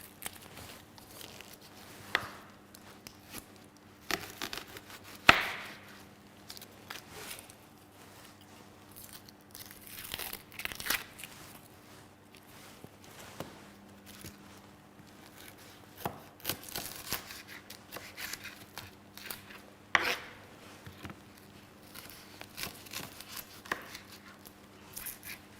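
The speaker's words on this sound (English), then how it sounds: "Then I roughly chop the onion." A knife roughly chops a red onion on a board, giving sparse, irregular taps and soft crunches. The taps are close but quiet and spread across a long, otherwise hushed stretch.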